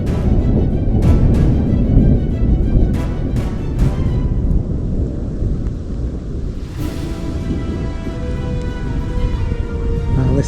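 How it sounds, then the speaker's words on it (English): Low rolling thunder rumbles beneath steady wind outdoors by a river near cottonwoods in off-grid Colorado, with a few sharp broadband bursts in the first seconds and a brief rushing swell midway, all heavy and continuous. "We're hearing thunder"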